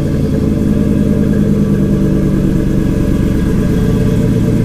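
A 1967 Camaro fitted with an LS6 V8 runs loud and close, its deep, steady rumble holding a throbbing exhaust note with no talk over it.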